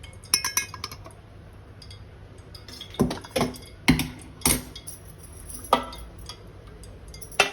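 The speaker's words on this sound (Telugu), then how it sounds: "ఈ ప్లేట్ తీసేద్దాం" A metal plate lifted off a cooking pot in a home kitchen, with several sharp metallic clinks and clatters of uneven timing, close and fairly crisp.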